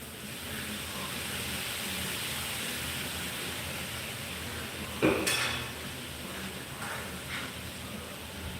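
Stir fry cooking in a pan gives a steady, fairly quiet sizzle with soft scraping of a utensil, and one sharper metallic clink partway through.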